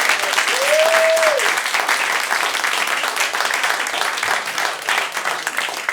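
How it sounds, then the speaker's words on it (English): Steady applause and clapping from a comedy special audience fills the whole stretch, loud and continuous, with a brief whistle near the start. "That deserves an applause already."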